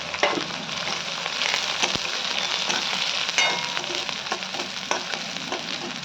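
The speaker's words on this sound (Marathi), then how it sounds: "कांदा आणि लसण चांगल्यानं तळू द्यायचा" Onion and garlic fry in a pan with cumin seeds and a spice paste, giving a steady, close broadband sizzle with occasional sharp clicks and scrapes of stirring throughout.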